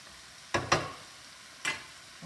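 A beef and mushroom stir-fry in a pan gives three short bursts of scraping, sizzling stir-fry noise over a quiet background, with no talking.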